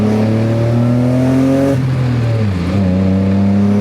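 A BMW 320i E30 with a swapped-in 325i E36 engine revs hard in rising pulls, shifting gears midway and climbing again, loud and close.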